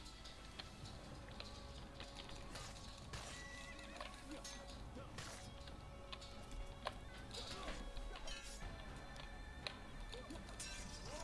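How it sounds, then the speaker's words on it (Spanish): A horse in the Assassin's Creed video game neighs and whinnies while its hooves clip-clop, with ticking game sounds and ambient effects layered steadily throughout. "Pues hasta aquí llegué con el caballo."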